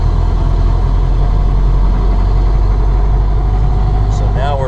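A Ford Model A drives off from a standstill and works up through second and third gear, its steady low engine drone filling the cabin with voices talking briefly near the end.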